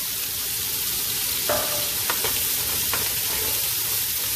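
Carrots, celery and onions sizzle steadily in a hot pan as the first step of braising short ribs. The hiss is a constant, close, even fry, with a few brief stirring clicks and scrapes. No one talks.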